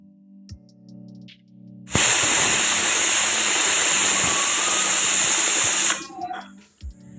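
Pressure cooker on a home stove releasing a loud, sharp hissing steam whistle that bursts on abruptly, holds steady for about four seconds, then cuts off, with quieter kitchen sounds before and after.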